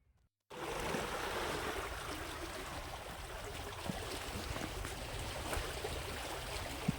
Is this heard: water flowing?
yes